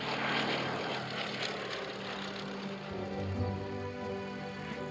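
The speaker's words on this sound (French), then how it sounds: "Je décolle dans le premier avion." Propeller airplane taking off, a steady droning engine roar with a rhythmic propeller beat throughout, moderately distant and fairly quiet.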